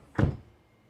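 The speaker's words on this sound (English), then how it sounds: "when I sit in the vehicle and close the door" A single solid thunk as the door of an Avatr 11 electric car is pulled shut from inside, short and close, followed by quiet.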